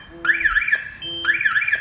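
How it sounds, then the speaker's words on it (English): An aftermarket two-way car alarm system, set off by its shock sensor, sounds its siren up close in two repeating bursts of rising and falling electronic warbling tones, each led by a short lower beep. "You will hear siren make alarm, and the LCD remote will get alarm information."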